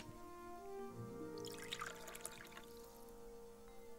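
Water poured from a carafe into a bowl in The Book of Unwritten Tales 2, a soft, brief splashing trickle in the middle of the clip over a quiet game music bed.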